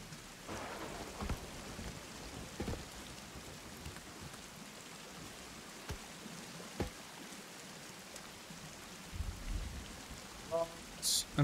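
Rain in the survival video game Sons of the Forest hisses in a steady wash of patter, with occasional louder thumps and a few brief sharper sounds near the end.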